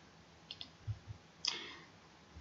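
Several small computer mouse clicks while working in iTunes on a computer, a pair of quick taps followed by a slightly louder click, close and quiet with no voices.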